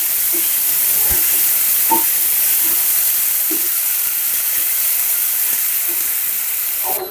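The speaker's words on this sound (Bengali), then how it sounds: "আদা রসুন বাটা দিয়ে দিছি একটু ভাজা ভাজা করে নিয়ে" Ginger-garlic paste fries in a pan with a steady, loud hiss and sizzle, with occasional soft stirring knocks close by and no one speaking.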